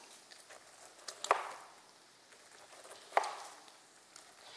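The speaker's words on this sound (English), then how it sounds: "I'm just going to use my knife and cut right around." A kitchen knife cuts down the side of a whole pineapple, slicing away the peel in two crisp, separate chopping strokes about two seconds apart, close and fairly quiet with soft handling noise between them.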